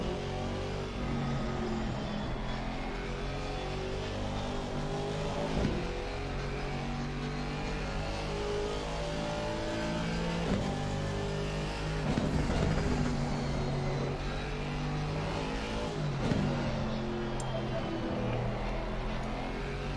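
A race car lapping Suzuka in Assetto Corsa Competizione, its engine droning steadily and loudly throughout, with shifts in pitch as it accelerates and brakes, and occasional changes in revs.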